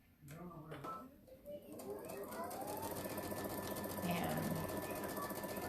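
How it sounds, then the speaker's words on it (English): A sewing machine runs steadily, stitching jelly roll quilt strips, starting softly and then holding a continuous close whir as one strip is fed in behind another; a voice speaks briefly near the start. "I'm going to grab the other one and feed it right in behind the other one."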